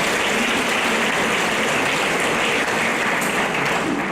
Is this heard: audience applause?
yes